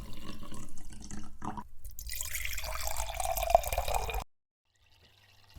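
Texas whiskey poured over ice in a glass, a steady splashing pour with liquid trickling over the cubes that stops abruptly, followed by near silence.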